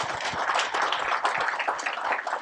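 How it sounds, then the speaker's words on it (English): Audience members at a fishing conference clap, a moderately loud, uneven patter of hands that continues throughout. "I want to hear a round of applause for Pat and his crew."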